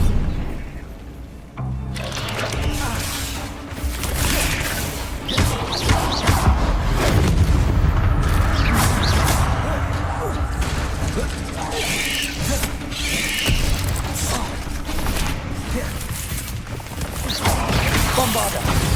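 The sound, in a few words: Bombarda blasting spell smashing objects in Hogwarts Legacy video game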